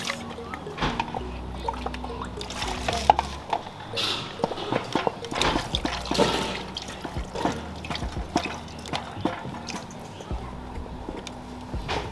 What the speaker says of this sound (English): I'll rinse the bowl with water, then add it.